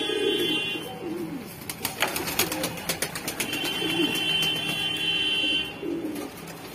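Pigeons of a Saharanpuri and Allahabadi flying breed coo in low repeated phrases close by, with a thin electronic buzz running through and a few sharp clicks in the middle.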